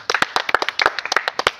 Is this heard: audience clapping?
yes